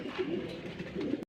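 Pigeons kept by a breeder coo softly nearby, two short throaty warbling coos close together in a brief burst, with no talk.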